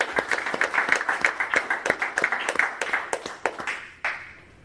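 Audience applause at a Parks Commission meeting: a modest crowd clapping in sharp, irregular claps that thin out toward the end, fairly close.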